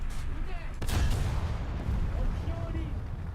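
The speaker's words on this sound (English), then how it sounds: "A hit shot explodes like that inside a tank?" In War Thunder, a shell strikes a tank with a sharp blast followed by a rumbling boom, loud and close against low background noise.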